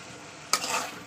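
Rice frying in an open, uncovered pan, with a quiet background that breaks at the midpoint into a louder burst of sizzling and scraping as it is stirred, close by and with no talking.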